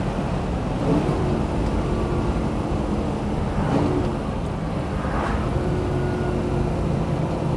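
A 1967 Chevrolet Corvette convertible with the L71 427 V8 rated at 435 horsepower, driven on a cool day in upstate New York, gives a steady, loud, close engine drone over road rumble, with brief swells in revs along the way.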